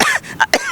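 On the Yamuna riverbank in Delhi, a man impersonating a politician lets out a few short, loud throat-clearing coughs close to the microphone.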